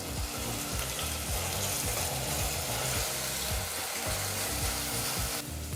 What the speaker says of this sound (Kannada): ಒಂದು ಟೊಮೊಟೊ ಹಣ್ಣನ್ನು ಸಹ ಹಾಕಿ ಒಂದು ಎರಡು ನಿಮಿಷಗಳ ಕಾಲ ಟೊಮೊಟೊ ಹಣ್ಣನ್ನು ಫ್ರೈ ಮಾಡ್ಕೋಬೇಕಾಗತ್ತೆ